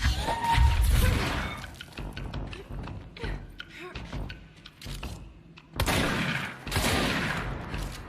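Gunfire from an action video game, dense bursts of shots and impacts crackling near and loud across the clip, with a voice talking over the action.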